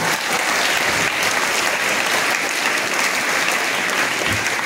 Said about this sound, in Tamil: பலத்த கரவொலி எழுப்புங்க